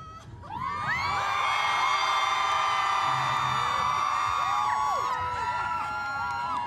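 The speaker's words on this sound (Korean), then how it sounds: "꿈에 그리던 아이돌을 딱 마주쳤을 때처럼 그런 함성을 질러주실 수" A festival crowd at the 2024 Jeju Eco Music Festival, gathered at the stage for a band, roars with sustained high cheers, whoops and shouts that swell quickly and hold loud for several seconds before thinning out.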